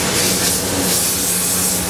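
A Tempstar heat pump from around 2007 with a Copeland compressor and Chinese-made reversing valve runs in cool mode, giving a steady, close, loud airy hiss and whoosh with no voices.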